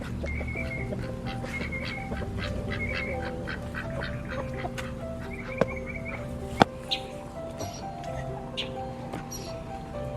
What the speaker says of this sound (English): Your birds are really noisy today.